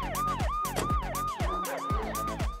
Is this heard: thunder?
no